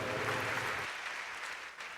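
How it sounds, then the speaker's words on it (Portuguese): A church congregation applauds together, with sustained clapping throughout and a low hum under the first part that drops away partway through, leaving the clapping to carry on at moderate level. "Agora você pode aplaudir o Rei dos Reis e Senhor dos Senhores"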